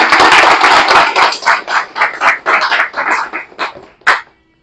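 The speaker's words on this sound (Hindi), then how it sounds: "ताली बजा सकते हो आप।" An audience at a motivational talk claps in a loud burst that breaks into uneven, rhythmic rounds, then trails off to a few last claps and a pause.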